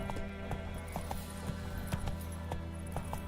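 Horse hooves in The Witcher 3 video game, a steady clip-clop rhythm of galloping steps over low game ambience, with faint background sounds and no clear talking.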